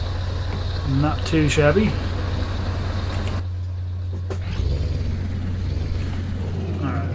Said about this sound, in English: Of course, it's way louder when I'm outside the truck. That's my Scania Streamline.